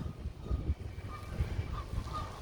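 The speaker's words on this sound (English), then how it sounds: "The Canadian geese?" Canada geese honk in scattered, low calls at some distance outdoors during a nature walk, faint and mixed with background noise, with no talking.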